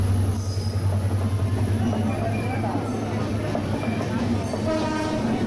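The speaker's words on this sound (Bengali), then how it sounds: "দেখছেন ট্রেন এসে বসছে, এই যে ট্রেনটা এসে বসে" A train pulls in and rolls past at a level crossing, a loud, steady low rumble of wheels on rails with high squeals, while people talk nearby.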